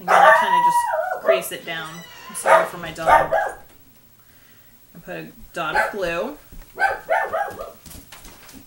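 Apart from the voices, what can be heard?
dog barking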